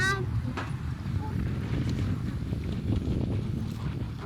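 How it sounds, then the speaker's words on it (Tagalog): Strong mountain wind in Tanay, Philippines, buffets the microphone with a constant low roar throughout, steady and close, with no clear talk over it. "Sobrang lakas ang hangin."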